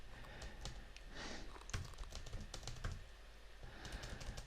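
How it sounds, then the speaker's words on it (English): Typing on a computer keyboard sounds close and quiet in irregular bursts of sharp key clicks, with soft breathing between the bursts and no talk. "I thought on this occasion I'd do a bit of typing live"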